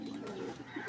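A soft, low racing pigeon coo close by, a brief throaty murmur with no talking over it.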